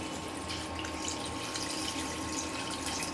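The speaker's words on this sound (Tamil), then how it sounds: "அந்த புளி தண்ணியை இதில் சேர்த்துக்கிறேன்" Tamarind water is poured into a pot of prawn curry with drumstick, brinjal and potato, a steady close splashing pour of liquid lasting throughout, alone without speech.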